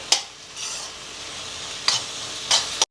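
Spices and vegetables for a stuffed brinjal curry being dry-roasted in a pan on the stove, with a few sharp spatula scrapes and stirs breaking over a soft sizzle.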